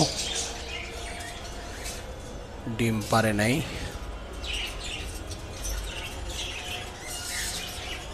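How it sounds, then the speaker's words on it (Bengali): Budgerigar parakeets kept in pairs in a cage chirp faintly and intermittently in the background while someone talks over them close to the microphone. "আর এখানে একজোড়া বাজিকার পাখি দেখতেছেন এটাও একদম ফুল রানিং বাজিকার পাখি"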